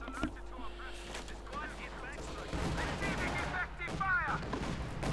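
A field gun fires in a Company of Heroes 2 battle, with dull booms and scattered gunfire amid a dense, continuous wash of combat noise; no one speaks over it.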